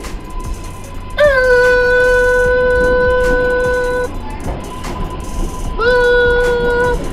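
A New York subway train's electric propulsion motors whine in steady rising tones, holding for several seconds, cutting out, then starting up again, over rumbling track noise.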